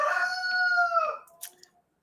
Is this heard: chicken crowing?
yes